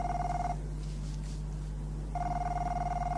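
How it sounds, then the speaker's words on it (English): An old-style telephone bell rings in two bursts, loud and alone, with a quiet pause between the rings. "The phone."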